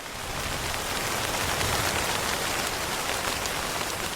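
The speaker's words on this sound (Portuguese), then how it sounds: "Um dia, a chuva começou a cair sobre o fraco esconderijo que ele" Rain falling on a flimsy shelter, a dense, steady patter of drops on a surface, close and continuous with no talking.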